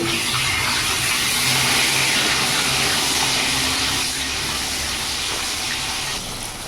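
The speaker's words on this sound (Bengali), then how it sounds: "তো আমি কড়াইতে আলু দিয়ে দিচ্ছি ভাজতে শুরু করে দিয়েছি" Potatoes frying in oil in a kadai, seasoned with salt and turmeric, give a steady, dense broadband hiss that holds unbroken and close for the whole stretch, easing slightly toward the end, with no voices.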